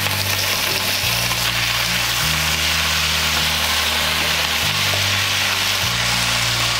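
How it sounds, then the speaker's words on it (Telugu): Vegetables (carrots, potatoes, cauliflower, brinjal) cook in a pot of sambhar with a continuous loud sizzle and bubbling. A low steady hum runs underneath, and no one speaks. "ఇప్పుడు దీంట్లో వెజిటేబుల్స్ అన్నీ యాడ్ చేసుకోవాలి."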